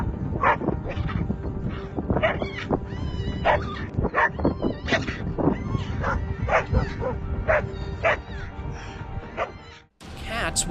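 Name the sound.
dogs barking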